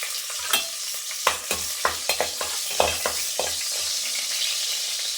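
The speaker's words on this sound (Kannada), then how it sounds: "ಹಸಿಮೆಣ್ಸಿನ್ಕಾಯಿ ಒಂದು ಸ್ವಲ್ಪ ಹಿಂಗೆ ಫ್ರೈ ಮಾಡಿಬಿಟ್ಟು" Green chillies frying in hot ghee for mutton sukka, a continuous bright sizzle with a run of spoon stirring clicks in the middle, close and steady with no one speaking.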